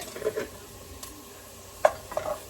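A teaspoon of garlic sizzles softly in a pan while a utensil stirs it, leaving a few scraping clinks over a quiet, steady fry.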